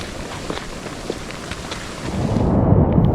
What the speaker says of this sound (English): Cloudy skies and straight rain.